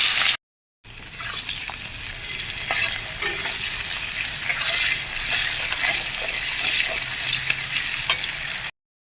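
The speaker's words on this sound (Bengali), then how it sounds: "তেলটা গরম হয়ে গেছে। এখন আমি এর মধ্যে দিয়ে দেব পেঁয়াজ কুচি।" Chopped onions fry in hot oil for a mutton curry, giving a steady, close, broadband sizzle that holds evenly for several seconds after a brief gap at the start, with no talking.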